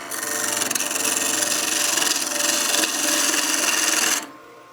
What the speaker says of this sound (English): we can go ahead and do the same peel cut we did earlier with the skew